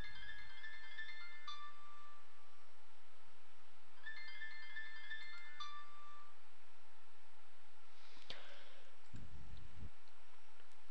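A mobile phone rings from a call routed through a Raspberry Pi GSM gateway, a repeating electronic melody, two bursts of the tune separated by a pause, fairly faint, followed by a few clunks.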